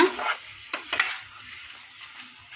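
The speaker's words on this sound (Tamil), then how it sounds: "எடுத்து நல்லா கிளறி விடணும்." A spoon stirs mango pachadi with jaggery in a pan, giving a few soft scrapes and light clinks over a faint, steady sizzle, close by.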